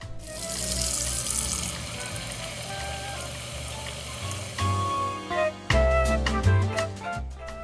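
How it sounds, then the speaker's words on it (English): Mirlitons simmer in water in a large saucepan, giving a steady, soft bubbling hiss that grows louder and more uneven toward the end, where ringing tonal sounds join in. "Boil, baby, boil."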